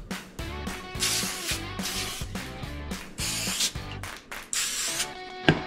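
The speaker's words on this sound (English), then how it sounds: "I'm gonna go ahead and spray my tortillas with a light coating of this olive oil from Pam." Pam olive oil cooking spray is sprayed onto tortillas in a series of short, close hissing bursts, with faint background music underneath.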